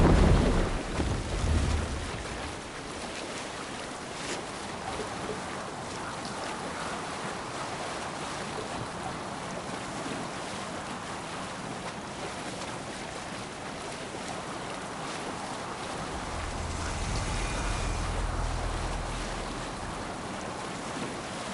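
Steady wash of ocean waves and wind around a sailing ship at sea in Assassin's Creed Valhalla, with a low rolling surge of water near the start and again toward the end, no talking.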